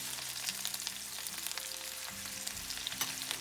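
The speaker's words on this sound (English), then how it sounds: "I thought it would be good to cook these burgers in the beef tallow" Burgers fry in beef tallow with a steady, close crackling sizzle and scattered pops throughout.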